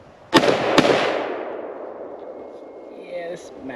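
An LMT L129A1 reference rifle, a 7.62 AR-10 type, fires two sharp, loud shots in quick succession on an outdoor range, each followed by a long rolling echo that fades away.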